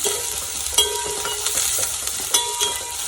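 Onions sautéing in a pan for chicken curry, a continuous sizzle broken by a few sharp stirring scrapes and knocks, close and alone.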